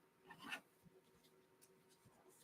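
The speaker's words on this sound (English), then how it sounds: "I'm going to kind of draw what the Tree of Life looks like on a piece of paper for you." A pen or pencil scratches faintly across paper in short strokes while someone sketches a Tree of Life diagram in a quiet room.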